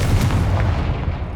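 The Confringo fire-blast spell in Hogwarts Legacy, a loud booming blast with a rumbling, crackling tail that slowly fades, heard alone without talk.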